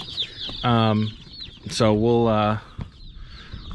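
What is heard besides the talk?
chicks in brooder boxes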